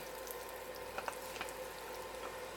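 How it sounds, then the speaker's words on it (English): Onions and garlic sautéing in a pot for spicy corn chowder, a continuous quiet sizzle with a couple of faint clicks, no talking. "I'm just going to saute this until the onions are slightly translucent"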